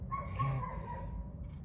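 Lonely dog giving a faint, distant bark followed by a drawn-out whimpering yip, heard faintly once against a quiet background.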